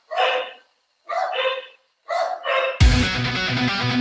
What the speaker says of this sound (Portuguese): é cachorro do vizinho latindo pra caralho